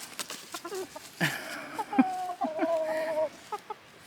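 A small hen clucks nearby in short, scattered calls that rise into a longer tonal cluck midway, fairly faint against a quiet outdoor background.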